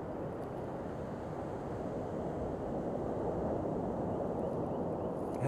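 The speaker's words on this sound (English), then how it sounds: "Listen to the ocean." Steady, soft rush of ocean waves and wind, continuous and fairly faint, with no distinct breaks and no voices.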